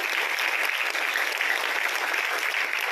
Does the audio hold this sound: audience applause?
yes